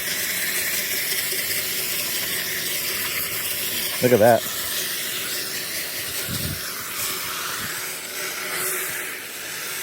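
A pressure washer jet hisses steadily as it sprays down a pool cartridge filter, a continuous close rushing spray throughout, while someone speaks briefly over it.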